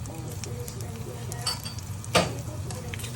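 Lechon kawali pork belly frying in hot oil, a steady low sizzle with a couple of brief sharper crackles and pops, fairly quiet and close, with no talking.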